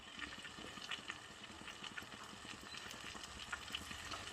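Butter simmering in a pan as it turns into ghee gives a steady, faint, fine bubbling and popping with small crackles throughout, close and continuous.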